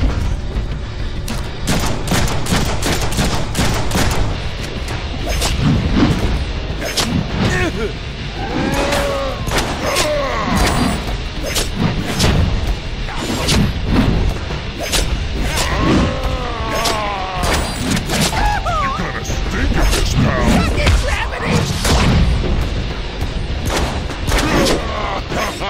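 Rapid bursts of gunfire from the Deadpool video game, repeated shots and booms crackling loudly throughout a hectic action sequence with constant layered effects.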